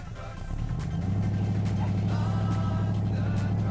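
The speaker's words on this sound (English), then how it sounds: "I think the monster truck is coming." A monster truck engine rumbles close by, building from quieter to a loud, steady low roar with a sustained droning hum, like a big vehicle drawing near.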